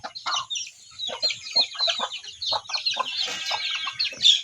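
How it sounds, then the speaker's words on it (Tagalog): Farmyard chickens cluck in quick, scattered bursts as they are called in for feeding, several birds close by and fairly loud, with a brief higher squawk near the end. "Niya mamahog ta karon guys sa manok."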